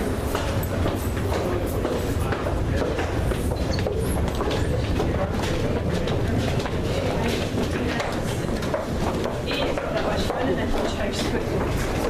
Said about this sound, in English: That's our train right there.